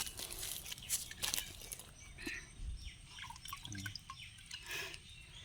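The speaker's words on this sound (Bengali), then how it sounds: "আগে আগে ডিমটা ভালো করে ধুয়ে নাও" A hen's egg is rinsed under water, giving intermittent drips and trickles with a few splashy bursts, close and fairly soft, with no talk.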